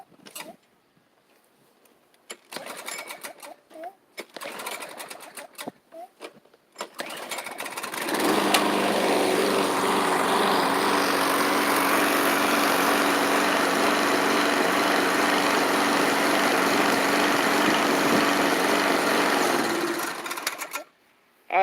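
A small tiller engine is pulled over a few times, then starts and runs steadily and loudly with a metallic, spring-like rattle riding on the drone before it cuts off.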